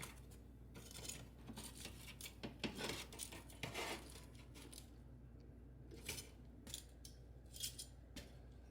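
A Tyson chicken sandwich being flipped in a metal air fryer basket, with faint, close metallic scrapes, taps and clatter in short bursts, quiet and without voices.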